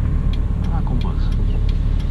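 A Honda Civic drives and shifts gear smoothly, with a steady low engine hum and road rumble running under a voice talking in the cabin.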